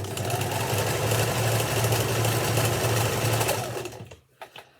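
A sewing machine stitches a fabric scrunchie at stitch length 2, running steadily at a fast, even rhythm for about four seconds, then stops, leaving a couple of faint clicks.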